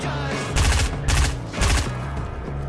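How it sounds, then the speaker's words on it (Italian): Bursts of rapid gunfire in the video game Fortnite in three or four loud volleys separated by brief pauses, with a steady electronic background in between. "adesso che stai sparando a loro"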